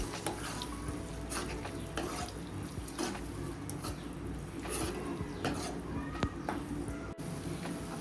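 A spoon scrapes and clicks in a pan as boiled sweet corn is stirred into cooked spices for a Gujarati sweet corn curry, quiet and irregular over a low hum.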